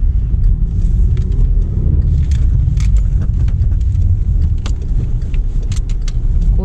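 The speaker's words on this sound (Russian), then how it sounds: "Едем по Волгограду." A car drives through the city of Volgograd, giving a steady low road rumble throughout with scattered light rattles and clicks from inside the cabin, and no talking.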